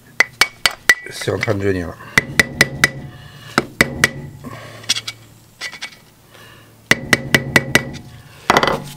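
Hammer tapping the collar of a Mercedes 500 SL R129 brake part clamped in a vise: sharp metallic clinks in quick bursts of several strikes, pausing between groups, with someone talking in between.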